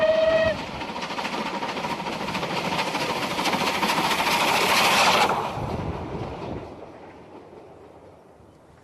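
A steam locomotive train rumbles past, a short whistle tone at the start followed by a swelling clatter of wheels and wagons that peaks and then fades away into the distance.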